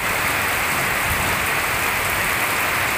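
Steady light rain pattering as a dense, even hiss, continuous throughout with no breaks, during a thunderstorm.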